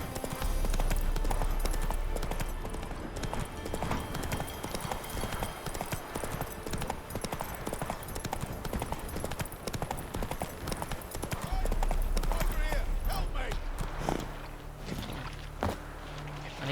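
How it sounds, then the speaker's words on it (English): Horse hooves clip-clop steadily on the ground in The Witcher 3: Wild Hunt, a continuous galloping rhythm over game ambience for the whole stretch. "Come on, Roach."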